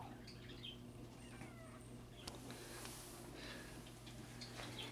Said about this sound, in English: Over here we have a few of the cats trying to hunt the other canary here